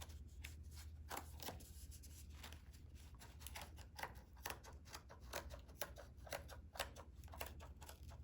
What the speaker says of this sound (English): I'm going to cut off the ends from the loom. So I'm putting the scissors underneath the loops that hold it onto the cardboard.